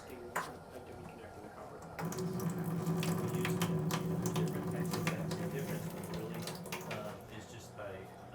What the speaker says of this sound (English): Is that faucet open on your utility sink on the hot side?